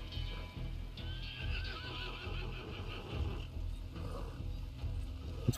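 A horse in the Red Dead Redemption video game whinnies and clops its hooves, with a loud neigh early on and hoof clatter continuing under faint background sounds.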